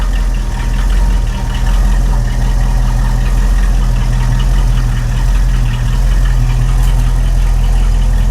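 A carbureted V-8 in a 1989 Chevrolet S10 pickup idling slightly rich, a loud close steady low rumble with a faint ticking pulse and small uneven wavers in speed, no voices.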